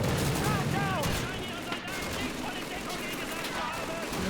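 Rifle fire in Call of Duty 2 from a 10-round Lee Enfield cracks among other scattered battle shots and effects, fairly faint and cluttered, with someone talking over part of it.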